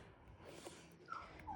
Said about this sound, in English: you can hear my dog in the background crying.